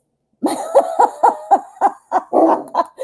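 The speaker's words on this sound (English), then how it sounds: "My dog's barking." Indoor dog barking nearby in a rapid series of about ten sharp, loud barks with short pauses, a couple of them running together near the end.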